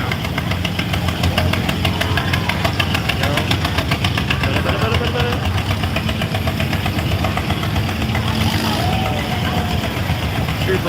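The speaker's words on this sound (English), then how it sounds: "Super cool old vintage tractor." A vintage tractor's old engine chugs steadily as it rolls along in a small-town bicentennial parade, a loud, even, rhythmic knocking idle with crowd noise around it.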